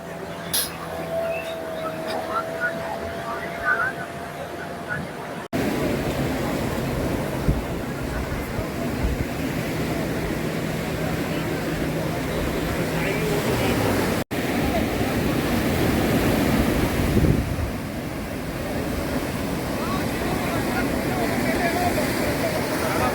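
Surf rolling steadily onto Sinquerim beach near Candolim in North Goa, a broad continuous wash of waves with wind noise, loud and close throughout, while a voice speaks briefly near the start.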